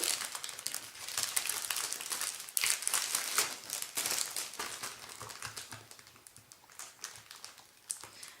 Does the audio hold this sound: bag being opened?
yes